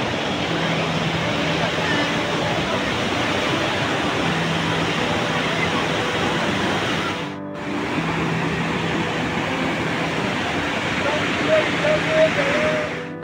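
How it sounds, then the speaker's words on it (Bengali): Water pours and splashes without a break at the hot spring bathing pool by Badrinath temple. The rushing sound is loud and continuous, dips for a moment, then resumes, with faint voices mixed in. "আমি এখন চলে এলাম গরম কুণ্ডে, এখানে সবাই স্নান করে"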